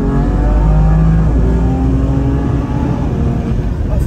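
A car engine roars loudly and steadily, its pitch shifting as it revs, close and dominant throughout.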